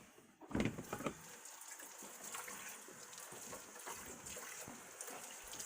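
Thick, smooth cheesecake batter pours steadily into a springform pan with a soft, continuous gushing flow, starting with a brief louder splash.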